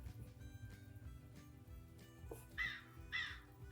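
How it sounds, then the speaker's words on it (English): A crow sound effect gives two loud, harsh caws in a row near the end, standing out over a steady low background rumble. "A crow, of course."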